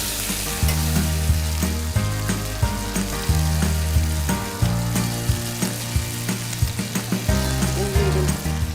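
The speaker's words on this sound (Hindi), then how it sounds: "तो मैं बस चिकन को थोड़ा सौते करूँगी इसके अंदर" Chicken pieces sauté in a hot pan for chicken sagoti, with a loud, steady sizzle and frequent scraping stirs and clinks of a utensil against the pan, close up and with no voices.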